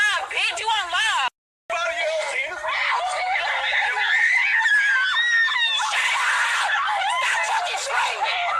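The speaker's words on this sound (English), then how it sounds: "Stop fucking screaming." A woman screams and wails loudly and without letup during a confrontation with police, her voice rising and warbling close up, mixed with shouting from others and a brief drop to silence.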